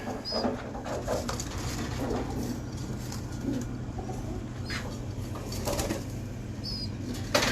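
A female pigeon gives soft, low cooing and faint chirps at close range over a constant background hum, with a few light rustles and no talking.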